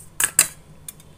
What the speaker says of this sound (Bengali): ধীরে ধীরে চামচের সাহায্যে একটু তুলে নিচ্ছি